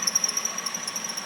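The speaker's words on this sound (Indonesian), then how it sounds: "Ini ada bunyi karena minyak power steering kurang" Car engine bay with power steering low on fluid, giving a thin, steady high-pitched squeal with a faint pulsing flutter, fairly quiet and continuous throughout.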